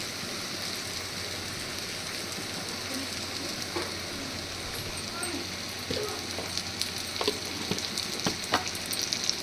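Ghee sizzles in a pan of frying banana-flower dish, a steady hiss and crackle with occasional sharper spits toward the end.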